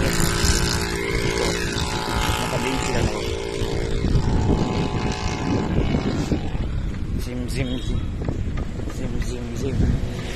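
Motorbike engine straining loudly while climbing a steep uphill road near Mountain Peak in Claveria, a continuous throaty drone with wind rush, and people talking over it throughout.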